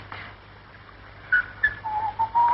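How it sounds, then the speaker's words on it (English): A few short, wavering whistled notes, thin and tuneful, sound in quick succession over a quiet background. "Oh, do stop whistling."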